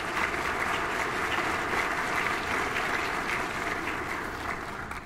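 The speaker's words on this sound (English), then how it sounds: "Would you please join with me in a round of applause for our sponsors" Sustained applause from a conference audience thanking event sponsors, dense and steady throughout, tapering slightly toward the end.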